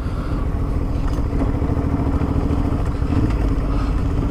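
Motorcycle engine running steadily while riding off-road, a dense, rough low rumble that stays loud and close throughout with no speech.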